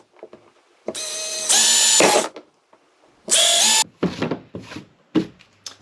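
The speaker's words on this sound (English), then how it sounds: "take a drill with a 5mm drill bit and drill through those holes" A power drill fitted with a 5mm bit bores holes through a kayak hull to fit a fish finder, sounding as two loud whining bursts, each about a second long, followed by several shorter revving blips.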